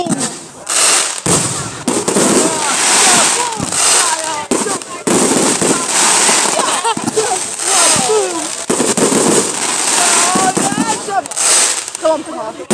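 Bonfire night fireworks burst in loud, rapid crackling volleys with sharp bangs and fizzing, close by and nearly continuous, while excited voices shout and talk throughout.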